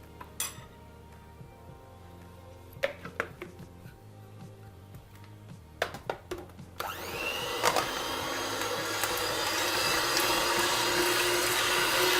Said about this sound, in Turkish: Evet, kremamızı karıştırmaya başlıyoruz.